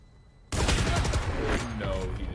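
Gunfire in the Valorant video game: after a quiet moment, a sudden loud burst of rapid shots starts and keeps rattling close and dense until the end.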